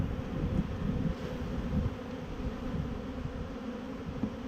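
Honey bees buzzing around an open hive while brood and honey frames are lifted and shaken, a dense, continuous droning hum close to the listener with no talk.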